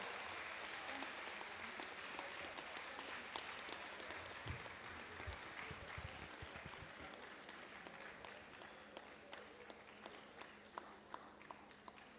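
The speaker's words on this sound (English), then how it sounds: "Another round of applause for her." Audience at a University of Ibadan foundation day convocation lecture applauds after the talk, a steady wash of many hands clapping in a large hall, fairly distant, thinning toward sparse individual claps near the end.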